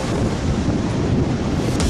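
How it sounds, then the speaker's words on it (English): Wind whistling along the coast near Victor Harbour on a blustery day, a constant close roar and microphone buffeting over faint surf, steady throughout with no talking. "The wind just whistles through here."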